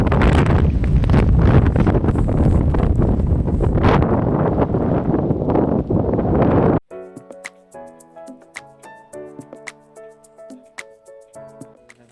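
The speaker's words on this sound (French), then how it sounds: "Est-ce que vous entendez le vent?" Mountain wind at Vars buffets the microphone in loud, rough gusts for several seconds, then cuts off abruptly, leaving a quieter stretch of clear tonal and ticking sounds.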